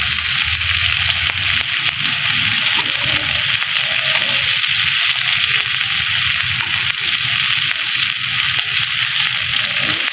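Hilsa fish sizzling in hot oil in a kadai in a village kitchen, a dense, continuous crackle and spit of frying, loud and close throughout with faint stirring and watery sloshing.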